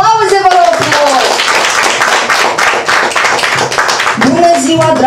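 Guests clap at a turquoise (18th) wedding anniversary celebration. A voice rings out at the start and returns at the end, with a burst of loud, close applause in between.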